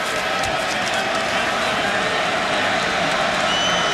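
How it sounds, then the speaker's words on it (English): Stadium crowd roaring steadily after an Oklahoma touchdown against Nebraska in a college football game, a dense, continuous wall of cheering noise with no pauses, heard from within the stands. "So now the crowd into it."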